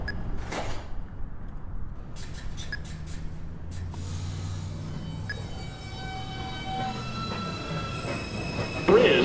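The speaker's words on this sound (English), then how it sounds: "There is a Uptown Express 2 train to Rector Street approaching the station." A New York subway 2 train pulls into a station with a steady rumble and screeching wheels, heard loud and close, with station noise around it and a brief voice at the end.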